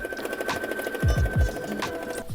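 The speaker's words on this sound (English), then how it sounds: "And now I'll sew the waist seam" A sewing machine stitches the waist seam of a shirred summer dress, joining the bodice to the circle skirt. Rapid, even mechanical ticking runs throughout, with a few heavier thumps in the middle.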